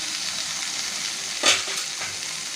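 Prawns for a bun filling sizzle in a pan, a steady close hiss broken by one sharp burst of crackle and a scrape of stirring midway, then settling back to an even fry.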